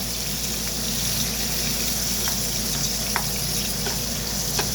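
Prawns without masala frying in hot oil in a hotel kitchen pan, a loud, constant close-up hiss and crackle with occasional small pops throughout.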